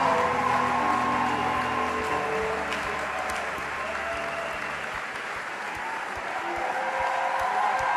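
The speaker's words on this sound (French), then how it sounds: "sous vos acclamations." A large church audience applauds and cheers at a pastors' ordination ceremony of a Christian mission, sustained dense clapping filling the hall for the whole stretch with no voices over it.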